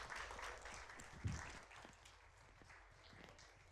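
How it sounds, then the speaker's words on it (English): Audience applause for a group of fourth- through sixth-grade children after an arts council performance, a steady wash of clapping from a crowd with a brief louder thump partway through, then tapering off. "Let's give them a big round of applause."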